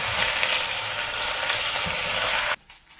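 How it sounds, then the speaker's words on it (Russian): Liver pieces fry in a hot pan, a steady loud sizzle with scattered sharp pops running close and continuous, then cutting off abruptly near the end. "Осторожно, она печенка имеет свойство сильно стрелять."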